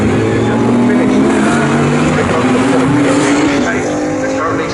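GT race cars racing at the Snetterton circuit, a loud, sustained engine roar with a drawn-out rising and falling pitch from passing cars.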